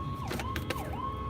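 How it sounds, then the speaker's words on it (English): Ambulance siren wailing in traffic, its rising and falling tone sweeping steadily and fairly loud against a constant road rumble, with no talking. "Did you really have to wait to come behind me to get through, ambulance?"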